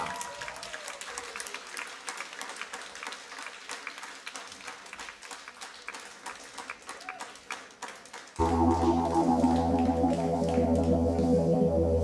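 Concert audience at the 4th "Разные Люди" festival in St. Petersburg applauds as a band takes the stage; scattered clapping builds, then a loud, dense band sound takes over the second half.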